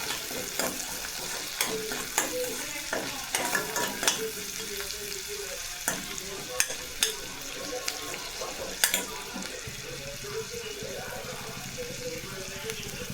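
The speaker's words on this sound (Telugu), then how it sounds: "కట్ చేసుకున్న మిర్చి వేస్తున్నాను. అవి వేగేదాకా కలుపుకోవాలి." Chopped green chillies stir-fry in a pan with a steady sizzle, while a spatula scrapes and clacks against the pan in repeated sharp strokes, close and fairly loud.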